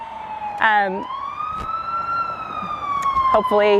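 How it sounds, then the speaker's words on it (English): An ambulance siren wails, sweeping up and down nearby in a park, with short yelping bursts at the start and end, and a brief spoken word in between. "Interesting that there's an ambulance right now"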